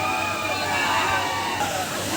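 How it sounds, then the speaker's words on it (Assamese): Borjhora waterfall in Bongaigaon, a bathing spot, gives a steady, loud broadband roar of water plunging from high up, continuous throughout with a faint murmur of people beneath. "এই চাওক একদম ওপৰৰ পৰা বহুত স্পীডত পানী পৰি আছে"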